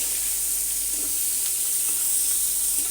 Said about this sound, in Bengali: এখন আমি এই চিংড়ি মাছগুলো লবণ আর হলুদ দিয়ে মেখে নিয়েছি এটা দিয়ে দেবো এটা একটু মোটামুটি আমি ভেজে নেবো